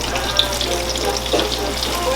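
A steady hiss of green tomato slices frying in a pan, with a few small pops, continuous and fairly close, with no talking.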